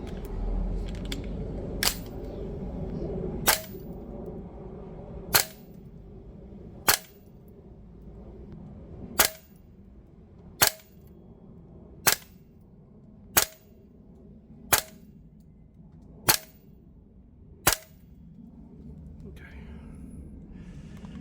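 An HK416A5 gas blowback airsoft rifle fires 0.25 gram BBs on green gas at a range, about a dozen sharp single cracks spaced one to two seconds apart, loud and close, with quiet speech between early shots.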